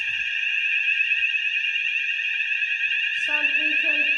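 Fire alarm sounder under test at a community centre, a loud continuous electronic tone close by, with a person speaking over it near the end.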